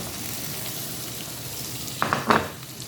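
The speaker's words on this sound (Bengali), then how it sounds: "দিয়ে ভালো করে কষিয়ে নেব। মশলাটা ভালো করে কষিয়ে নিয়ে" Spices and tomato fry in a pan with a steady background sizzle, then near the end a pair of louder scraping stirs and clatters of a utensil against the pan.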